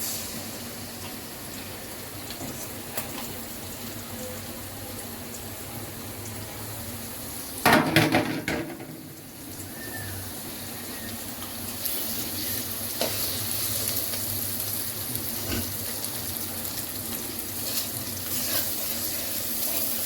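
Beaten egg goes into a hot pan and fries with a steady, fairly loud sizzle. A brief burst of clatter and spatter rises partway through, then the frying hiss carries on continuously close by.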